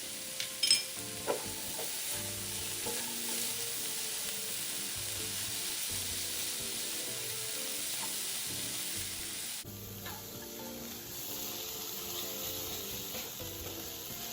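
Tapioca ball filling with yam bean is stir-fried in a pan, a soft continuous sizzle under repeated quiet scraping strokes of the spatula, close and steady for the whole stretch, with no talk.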